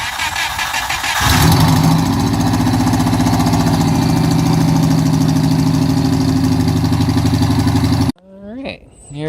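A boosted car engine cranks over and catches, then settles into a loud, steady, lumpy idle for several seconds before it abruptly cuts away to a quieter sound.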